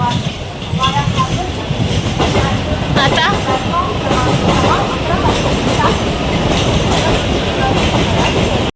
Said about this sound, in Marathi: येते ना ट्रेन